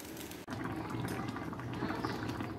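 A carrot chicken curry simmers on the stove with a constant bubbling, hissing boil, broken only by a brief dip near the start, fairly quiet and with no voices.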